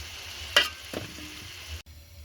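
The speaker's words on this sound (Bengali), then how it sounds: "ফুলকপিগুলো হালকা করে ভাজা হয়ে গেছে" Cauliflower pieces fry in oil in a pan with a low, steady sizzle, broken by a couple of sharp stirring clatters before the sound cuts briefly and resumes more quietly.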